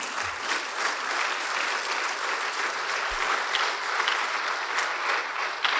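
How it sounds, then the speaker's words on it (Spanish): A church congregation claps together in steady, dense applause through the whole stretch, a full room of hands sounding moderately near, with no voice over it. "Dele palmas al Señor."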